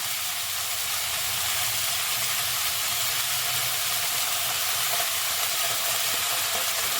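Ginger and cumin paste sizzling steadily in a hot pan of oil while cooking Bengali bhetki fish curry with potato and cauliflower, a continuous close hiss with no talk.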